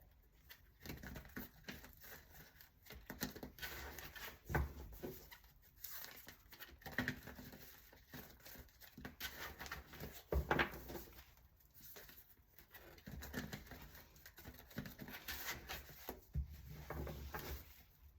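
A tarot deck is shuffled three times, giving quiet, close papery patter and riffles with occasional light knocks, continuing in uneven bursts throughout.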